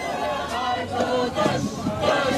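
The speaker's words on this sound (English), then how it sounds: "The crowd here chants a call for a general strike" A crowd of people chanting in unison for a general strike, rising and falling in rhythmic bursts of massed voices at a steady, moderate distance.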